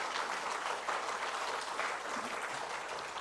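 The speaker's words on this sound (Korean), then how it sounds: "우리 목사님 나오실 때 큰 박수로 환영해 주시기 바랍니다" A church congregation claps to welcome the pastor to the pulpit during a Sunday worship service, a steady, moderately loud spread of hand clapping from many people that carries on evenly without voices.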